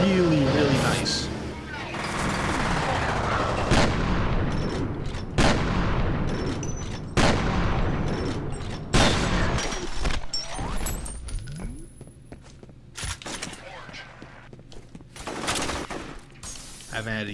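Gunfire in a shooter video game: repeated sharp shots and short bursts, loud and irregular, with a dense stretch of firing early on and sparser cracks later, over a background of game noise and talk.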